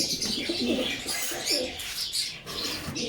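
Well-bred pigeons, kept in pairs at a pigeon farm, coo and chirp in short, repeated calls close by, with a faint flutter of wings and no speech.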